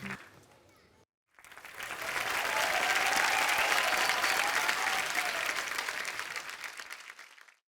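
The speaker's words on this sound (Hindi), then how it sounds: "एक बार जोरदार तालियां हो जाए" A studio audience on a comedy talk show breaks into loud, sustained applause after a short quieter moment, swelling and holding steady for several seconds before tapering off.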